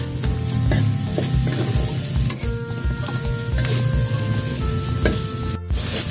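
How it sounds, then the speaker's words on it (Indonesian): Jengkol beans frying in hot oil in a pan for a sweet-spicy dish: a loud, continuous sizzle with repeated stirring scrapes and clinks of the utensil, running close and uninterrupted until a brief cut near the end. "Aduk sampai jengkol kering."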